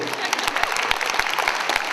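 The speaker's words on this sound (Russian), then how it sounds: "аплодисменты" Audience at a concert applauding, dense sharp claps in a loud, close patter with crowd noise and some voices underneath.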